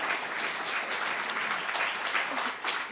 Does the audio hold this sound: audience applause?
yes